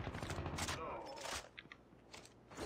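AK rifle fire in the mobile shooter Call of Duty: Mobile comes in short, quick bursts of gunshots with mechanical clatter, faint and distant, with a voice speaking at times.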